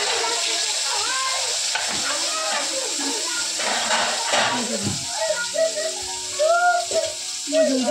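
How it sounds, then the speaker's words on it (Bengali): Pointed gourd fries in hot oil in a pan, a steady close sizzle and hiss with occasional stirring, while a person talks over it. "আর তার সাথে করছি পটল ভাজা"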